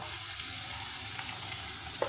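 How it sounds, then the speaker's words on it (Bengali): Potatoes frying in oil in a pan, a close, continuous crackling sizzle with a couple of soft clicks from the spatula. "এবার আলুগুলো ভালো করে ভাজা ভাজা করে নেব"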